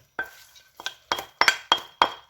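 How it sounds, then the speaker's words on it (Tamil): A spoon stirs salt into lentil curry in a pot, making six distinct scraping clinks in an uneven rhythm, close and clear with quiet gaps between them, and no talking. "உப்பு சேர்த்து நல்லா மிக்ஸ் பண்ணி விடுங்க"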